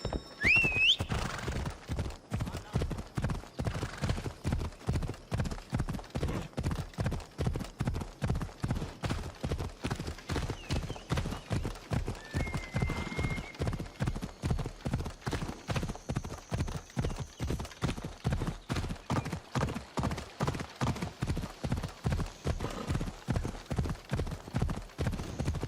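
A horse in Assassin's Creed Odyssey gallops with fast, even hoof clip-clops that go on without a break, with a neigh near the start and a few faint game sounds over the hoofbeats.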